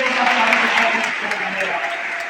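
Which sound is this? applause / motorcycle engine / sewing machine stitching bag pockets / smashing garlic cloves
applause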